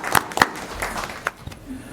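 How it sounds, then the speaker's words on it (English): Scattered applause at a city commission meeting in a council chamber: a few sharp claps, then lighter sporadic clapping over a low room murmur, brief and moderately quiet. "Applause."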